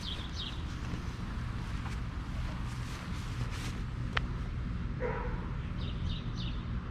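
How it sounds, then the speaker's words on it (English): A dog barks a few times at a distance outdoors, faint and brief against a steady wash of background noise, with a pet tegu nearby. "So you hear that dog bark"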